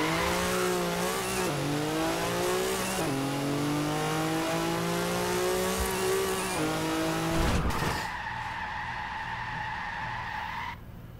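Chevrolet Colorado ZR2 pickup in Forza Horizon 4 roaring at full throttle with the engine pitch climbing through shifts, then a loud skid and tire squeal as it brakes hard to an emergency stop, ending in a steady idle.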